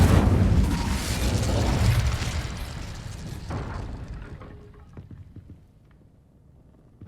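A fire spell cast in Hogwarts Legacy bursts with a loud, rumbling whoosh that fades over several seconds, followed by faint crackles and a sharp tail at the end.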